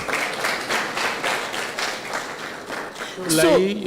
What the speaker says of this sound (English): Can we have another round of applause for our panel members,